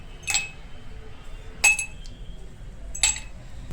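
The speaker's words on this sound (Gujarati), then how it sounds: "તો તેમાં પહેલા બરફના ટુકડા નાખી દઈશું." Ice cubes dropped one at a time into a serving glass for raw mango sharbat: three bright, separate clinks spaced evenly apart over a soft, quiet background.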